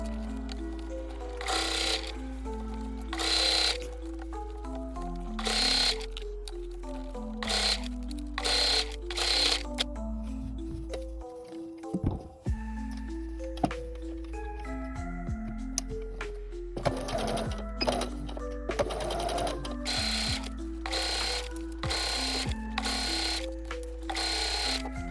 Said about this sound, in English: Top stitch along both long edges, sewing with a 1/8 inch seam allowance.